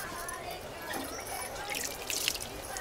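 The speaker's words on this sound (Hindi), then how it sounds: "अब डालना पानी।" Water poured out at a Hindu temple, a soft steady trickle and drip running for a few seconds at low level, with faint voices in the background.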